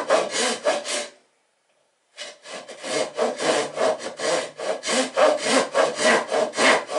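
A hand saw cuts a notch into wood for a toy boat's transom, steady close rhythmic rasping strokes, a brief pause, then a longer even run of back-and-forth strokes.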